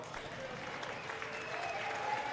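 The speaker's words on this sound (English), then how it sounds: "applause for our manager, Mackenzie Cathell, as well." Applause from the crowd at a girls' varsity high school basketball game fills the gym as a steady, fairly quiet wash of clapping, with voices murmuring through it.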